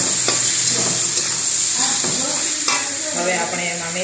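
Pigeon pea beans with chili and turmeric stirred in a pan: a steady sizzle with the scrape and rustle of a spoon through the mixture, close and continuous, with no voices.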